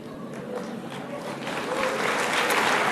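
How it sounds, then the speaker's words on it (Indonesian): Church congregation applauding, a dense, steady clapping from many hands that swells slightly louder toward the end, with no voices over it. "Jangan tepuk tangan."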